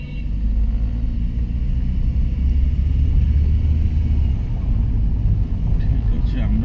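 Car driving along a quiet road, a loud steady low engine and road rumble from inside the cabin, holding evenly throughout.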